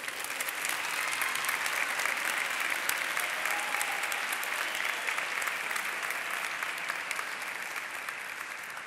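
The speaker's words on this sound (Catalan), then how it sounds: "Un flor aplaudiment per tots ells." Steady, dense applause from a large audience at an academic graduation ceremony, honouring the graduates, sustained evenly throughout without pause.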